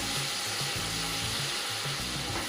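Paneer masala gravy frying in oil in a pan over a low gas flame, a steady dense sizzle with faint stirring scrapes, close and continuous with no talking.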